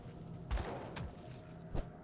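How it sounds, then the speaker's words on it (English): Scattered gunshots in a video game, a few sharp cracks spaced apart within a quiet background, fairly faint and distant-sounding, without talk. "With all these gunshots, all the stuff that's going on around here."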